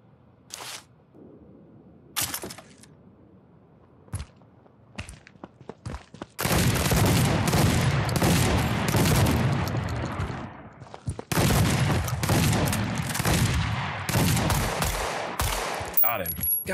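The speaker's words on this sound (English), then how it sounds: "the shotgun is just not doing the damage" Shotgun blasts in a first-person shooter video game, a few isolated shots at first, then dense loud bursts of rapid gunfire and booms crowding together, with a player talking in between.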